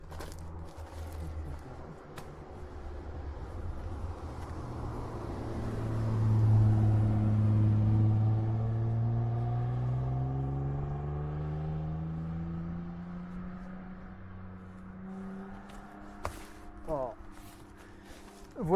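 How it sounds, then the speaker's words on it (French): A motorcycle engine on a road trip in Spain, ridden up over pebbles and mud, rumbling low and swelling in pitch as it climbs, with scattered voices over it. "Je vais monter la moto."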